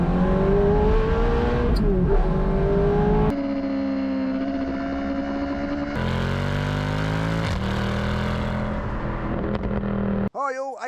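A Lancia Delta HF Integrale Evoluzione accelerates hard through several gears, its loud engine note climbing and dropping at each shift, heard close from inside or beside the car.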